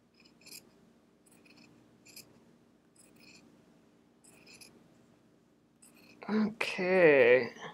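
Scissors snip fabric while trimming a quilt label, making soft, quiet cuts that repeat about every second, and a voice speaks briefly near the end.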